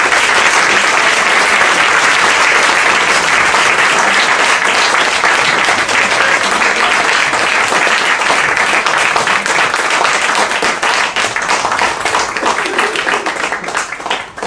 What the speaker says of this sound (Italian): facciamo un grande applauso a Liliana Sorrentino